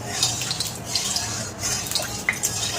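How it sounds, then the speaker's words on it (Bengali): Prawns fry in hot oil in a wok, with a steady crackling sizzle and scattered sharp pops. "তেল গরম হয়ে গেছে, চিংড়ি মাছটা দিয়ে দেবো।"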